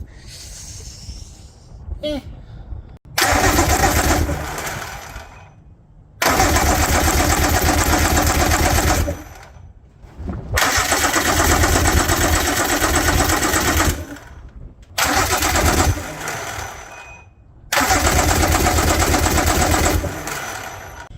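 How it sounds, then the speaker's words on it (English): A 2000 Johnson 90 HP outboard engine with a glitching starter, cranked in five long bursts of loud rhythmic whirring separated by short pauses, with faint talk between cranks. "notice that starter kind of glitching on us"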